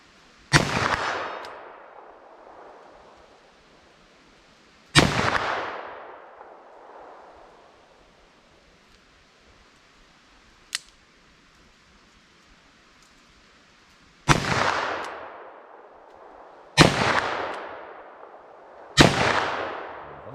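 Five loud close revolver shots from 4-inch barrels chambered in 10mm and .44 Magnum, each a sharp crack followed by a ringing outdoor decay, irregularly spaced with long quiet gaps and a faint click between.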